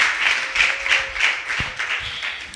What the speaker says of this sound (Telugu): దేవునికి గట్టిగా చప్పట్లు కొడుతూ దేవుని నామాన్ని మహిమపరచండి